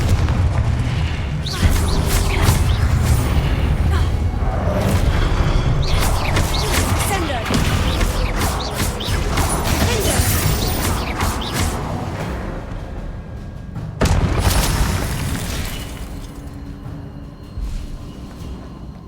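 The Confringo fire spell in Hogwarts Legacy sets off repeated booming blasts over a dense, continuous wash of loud game sound effects.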